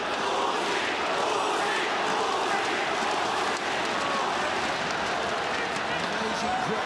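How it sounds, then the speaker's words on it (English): A loud arena crowd roars and cheers continuously during a ONE Championship MMA fight, a thick wall of sound with a commentator talking over it. "Amazing crowd here. Sounds like a football arena."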